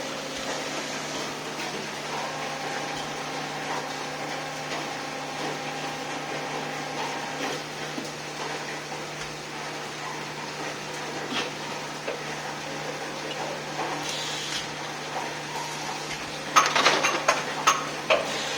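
An injection molding machine hums steadily after being switched on, with a faint mechanical drone, light ticking, and a cluster of sharper clanks near the end as the cycle runs.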